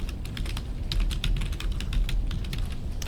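Rapid typing on a computer keyboard, a steady run of close, crisp key clicks with a few louder strokes, heard alone without speech.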